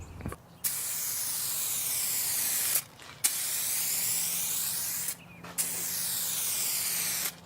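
Clear coat sprayed onto a hazy headlight in three steady hissing passes from an aerosol can, each a few seconds long with short pauses between, close and moderately loud.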